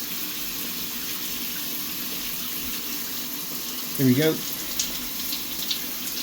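Water runs steadily from a newly fitted shower mixer tap, a continuous hiss with a brief spluttering burst partway through, while someone speaks a few words nearby.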